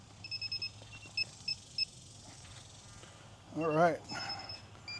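An FPV drone gives a series of short high electronic beeps, a quick run of four then three evenly spaced tones, followed by a brief burst of motor noise, with someone speaking briefly.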